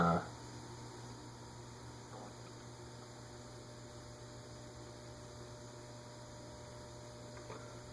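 A steady electrical hum from an Emerson Casablanca Classic ceiling fan on a solid-state speed control, with a constant low drone and faint buzzing overtones, running evenly throughout, with a brief thump at the start.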